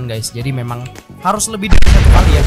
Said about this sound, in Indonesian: Sampai kalian bunyi petir seperti pertama tadi ya teman-teman.